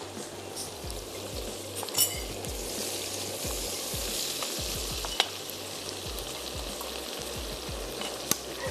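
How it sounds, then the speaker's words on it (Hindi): Garlic ginger paste and tomatoes sizzle in hot oil in a pan for handi kebab, a steady close crackling hiss with occasional soft clicks of a spoon, continuous throughout and no voices. "मैंने इसमें ऐड किया लहसुन अदरक का पेस्ट और इसमें जाएंगे टमाटर और 1 से 2 table spoon Louis tomato paste."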